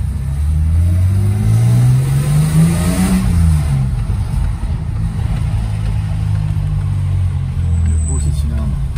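A clean BMW 528i E28 engine is revved once up and back down, a loud nearby rise and fall of the six-cylinder note, then settles into idle while voices talk over it.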